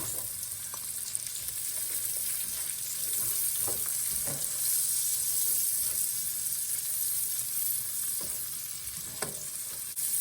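Yellow onion sizzling with garlic in a hot pan, a steady close frying hiss with occasional stirring clicks and scrapes throughout, no talking.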